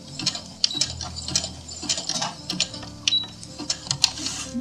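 Sewing machine running a medium zigzag stitch through fur on skin, a close, busy mechanical chatter of rapid needle strokes and clicking that continues throughout with no talking.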